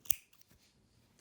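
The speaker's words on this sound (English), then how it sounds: "snip that off." A single crisp scissor snip cuts the corner off a piece of bralette fabric, close and sharp near the start, followed by faint handling rustle in a quiet room.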